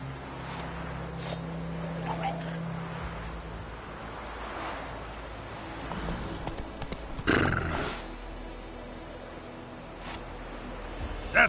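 Roach, a horse in The Witcher III, gallops with steady hoof clip-clops over a rumbling game soundscape, plus a neigh and scattered effects, all without talk.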